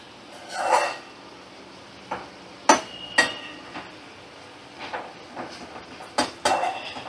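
Cooked okra and potatoes in mustard-poppy seed sauce are scraped out of a wok, with a series of sharp metallic clanks and scrapes of the utensil against the pan, close and irregular.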